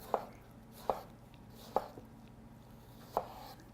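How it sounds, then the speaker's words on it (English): A knife cuts through a tomato on a board, four sharp, fairly quiet chops spaced irregularly about a second apart over a faint background hum. "So now that we have cut the tomato"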